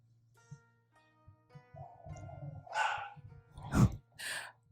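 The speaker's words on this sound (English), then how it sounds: "My parents' dogs are barking" Pet dogs barking inside a family home, a few muffled, somewhat distant barks that get louder toward the end over a low background hum.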